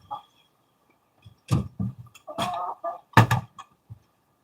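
A pet hen gives a short run of clucks and throaty squawks, close and fairly loud, in brief bursts with gaps of quiet between them.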